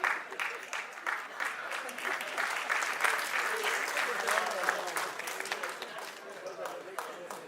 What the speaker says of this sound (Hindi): हम तालियों की गर्जना के साथ उनका स्वागत करें